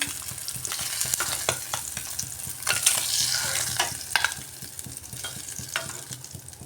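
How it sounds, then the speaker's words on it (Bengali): Steady crackling sizzle of eggs frying hard in hot oil, with scattered sharper pops and spatters throughout, close and fairly loud, no voices. "হরিয়ালি এগ বা ধনিয়া এগ কারির জন্য ডিমগুলো একটু কড়া করে ভেজে নিলাম।"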